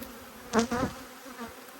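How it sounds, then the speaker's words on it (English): Angry honeybees buzz around beehives, a steady low drone with a couple of louder swells as bees fly close past, then fading back to a faint hum. "These bees in all these hives have been so angry all day"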